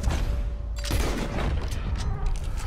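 A rifle fires while a player hunts the legendary white bison in Red Dead Redemption 2, a loud booming report over dense continuous game ambience, followed by a rumbling wash of noise.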